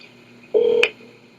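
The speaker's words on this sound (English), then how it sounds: "I know this is annoying to have your phone keep ringing." A single short electronic phone tone sounds once, a steady beep about a third of a second long ending in a sharp click, against quiet background.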